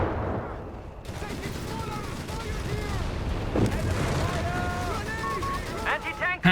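Battle in the real-time strategy game Company of Heroes 3, Afrika Korps against US forces: repeated gunshots, bursts of machine-gun fire and booming grenade blasts, with a voice talking over the fighting.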